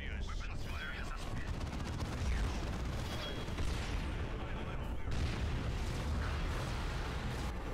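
Continuous weapons fire and explosions in the Warhammer 40,000 strategy game Dawn of War 2 (Wrath of the Blood Ravens mod), a dense, steady barrage of booms and shots with no clear breaks.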